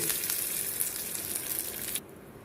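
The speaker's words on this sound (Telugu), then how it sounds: "పోపుని బాగా వేగనివ్వాలి." Spice tempering sizzles and crackles steadily in hot oil at close range, then cuts off abruptly near the end.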